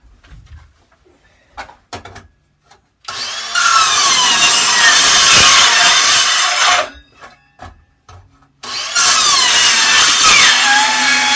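A handsaw cuts a notch in a wooden board in a barn: a few light taps and scrapes, then two long, loud bursts of rapid rasping strokes close by, separated by a short pause.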